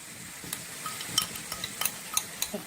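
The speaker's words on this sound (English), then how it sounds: "my butter has melted, so I'm going to add in my kale mix. And just let this cook for about a minute." Kale mix cooking in melted butter in a pan, with a soft, quiet sizzle under scattered light clinks and scrapes of a utensil stirring the greens.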